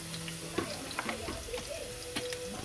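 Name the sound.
garlic sautéing in a pan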